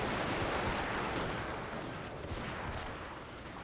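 Dense, continuous musket and infantry gunfire crackles in a large battle in the strategy game Total War: Shogun 2 – Fall of the Samurai. The rolling volley noise is distant and fairly faint, with no talk.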